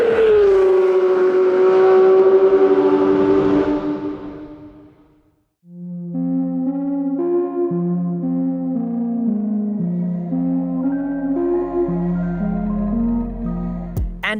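A Porsche 911 GT3 RS drives on the road. Its engine drones and climbs through the gears in long tonal sweeps, with a brief lull between shifts, heard loud and close from inside.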